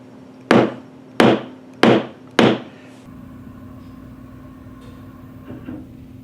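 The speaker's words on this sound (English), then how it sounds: "So I'm using a stitching chisel instead of a hole punch." Four sharp, evenly spaced mallet strikes drive a stitching chisel through plain leather, each a loud close thud with a short ring, followed by a few seconds of quiet room tone.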